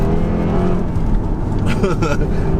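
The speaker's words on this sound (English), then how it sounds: "you've got loads of noise coming out the exhaust at the back, little crackles and stuff" Supercharged V8 exhaust of a Jaguar XKR on the move, a loud steady engine drone with brief crackle-like bursts near the end, heard from inside the car.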